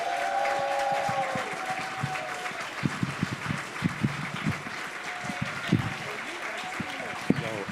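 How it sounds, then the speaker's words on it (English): An audience at a county MLK celebration claps steadily, a sustained wash of applause with sharper individual claps, heard at moderate distance under a speaker's voice. "With thunderous applause, please give it up for newly elected CEO, Lorraine Cochran-Johnson."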